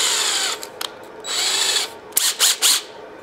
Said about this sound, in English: So now I'm going to just go through the first board.